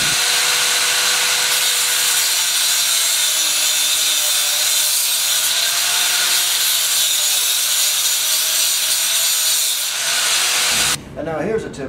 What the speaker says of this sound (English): So I need to cut these flanges off.